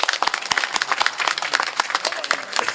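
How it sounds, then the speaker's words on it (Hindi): A crowd claps vigorously at a mushaira poetry gathering, close, loud and continuous, with distinct sharp hand strikes standing out in the dense applause. "भाई जोरदार तालियां एक बार"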